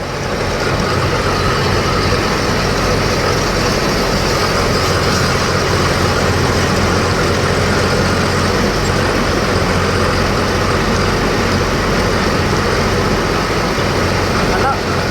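An off-road vehicle engine runs steadily at a strong, constant level while driving in standard mode, with a continuous broadband rumble and drone throughout, close and loud under a speaking voice.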